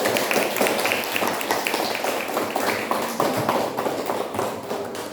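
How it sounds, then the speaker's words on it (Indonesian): A classroom of students gives a round of applause for the last presenting group, dense steady clapping filling the whole stretch, fairly close and even in loudness. "Kasih aplaus dulu khusus untuk kelompok yang terakhir."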